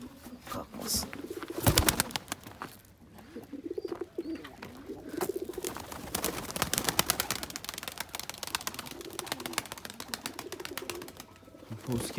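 Many birds crowd a poultry coop, producing a dense, continuous chorus of throaty cooing and calling, with occasional flaps and knocks, fairly close and steady throughout.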